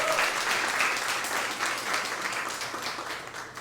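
A church congregation applauds in a steady, dense wash of clapping that slowly fades toward the end, with no voices over it.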